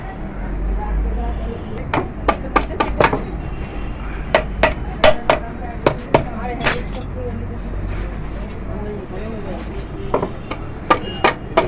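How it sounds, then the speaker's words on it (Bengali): A soft hammer taps the cast engine casing of a Suzuki Gixxer motorcycle to split it apart, close sharp knocks in quick clusters and scattered single blows, with someone talking throughout. "সফট হ্যামার দিয়ে অবশ্যই এভাবে টোকা দিয়ে খুলতে হবে"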